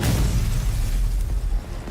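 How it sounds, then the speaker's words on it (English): Explosion in the video game Girls' Frontline 2, a loud sustained low-end rumble with a heavy boom that fills the whole span and tails off slightly near the end, with no talking. "There's another explosion, which sounds much closer this time."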